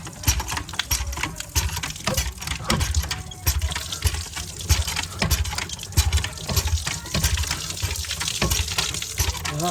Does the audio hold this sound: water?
yes